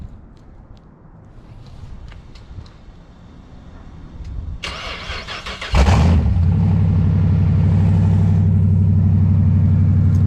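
A 2012 Dodge Charger R/T AWD engine cold-starts, cranking briefly, then catches and roars into a loud, steady idle that continues to the end, with no talking.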